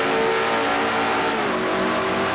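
A race car in a racing video game, set at Watkins Glen, accelerates hard out of turn 9 with a loud, steady, high-revving engine drone heard alone throughout.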